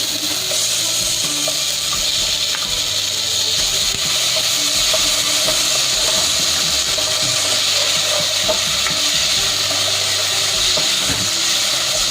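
Kimchi stir-fried in a pan, a loud, constant sizzle with rattling, scraping textures as it is moved around, close and unbroken, no voices.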